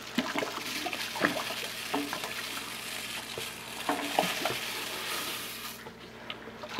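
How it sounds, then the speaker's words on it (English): Four pounds of flaked adjuncts poured into the middle of a homebrew NE IPA mash in a 65L Gen 4 brewing system and stirred, giving a steady wet rustling and sloshing with scattered soft knocks, close and continuous with no talk. "I'm gonna add in all the flaked adjuncts here in the middle."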